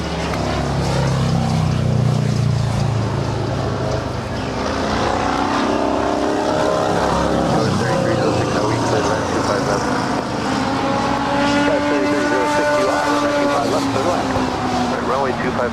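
Airplane at Los Angeles airport, a loud continuous engine roar with rising and falling tonal whine that fills the whole stretch, heard alongside radio talk.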